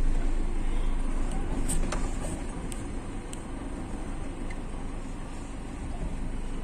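Toyota Hilux pickup engine revving hard to climb an off-road obstacle in a 4x4 traction test, a steady loud rumble that eases slightly midway, with a voice speaking over it.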